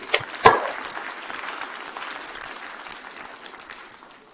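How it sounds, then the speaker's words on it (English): Audience applause at a university ceremony for PDPU leadership, faculty and staff, a dense steady clapping from a crowd that starts with a sharp burst and slowly tapers off. "Let us give them a warm applause."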